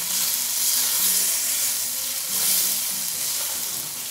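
Steady, dense sizzle of food frying in dendê palm oil, a continuous crackling hiss close by with gentle swells and no voices.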